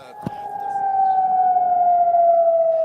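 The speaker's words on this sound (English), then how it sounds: "Sirens over the skies of Amman in Jordan sounded the start of Iran's short-lived reprisals" Air raid sirens wail over Amman, Jordan, a steady loud tone sliding slowly downward, with a brief thump near the start and faint background noise.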